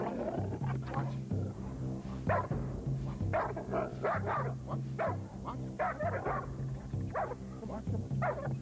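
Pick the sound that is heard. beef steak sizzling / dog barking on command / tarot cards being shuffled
dog barking on command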